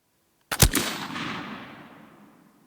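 A black powder flintlock gun fires once outdoors: a quick ignition crack followed immediately by a loud boom that rolls away into a long, fading rumble.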